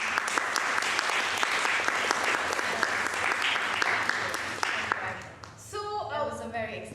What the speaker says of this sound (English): So I would like you all to give her a round of applause.